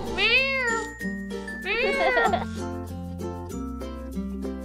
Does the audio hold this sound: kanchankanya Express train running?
no